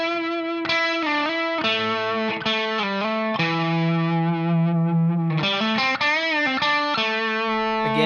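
Distorted electric guitar playing a guitar solo, with sustained bends, double stops and a walk-up phrase in an effects-heavy tone, loud and alone without talk.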